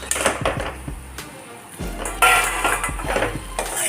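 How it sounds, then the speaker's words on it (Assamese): Pasta with spices, including cumin powder, stirred in a pan at home, giving a run of close scraping and metallic clinks of a spoon against the cookware, alone without talk. "পাস্তাখিনি দি খুব ভালদৰে পুনৰ লৰাই দিছোঁ"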